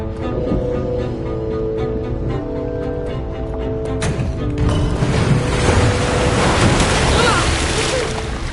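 Rushing water from waterfalls released by pressure plates in the Minecraft Story Mode game, a steady broadband wash that swells louder after a few seconds, with a low musical drone underneath.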